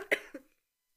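Two sharp coughs close by, one after the other, followed by silence.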